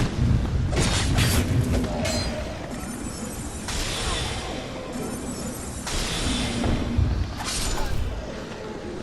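Firebomb explosions in Dark Souls 2: Scholar of the First Sin: a series of booming bursts with crackling, whooshing fire trails, several blasts spaced a couple of seconds apart over a constant rumbling game backdrop.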